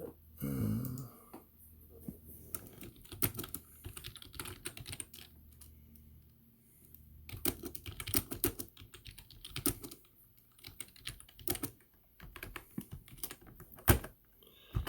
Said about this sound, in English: I still need to fix my keyboard, see what's making the crunchiness there underneath it.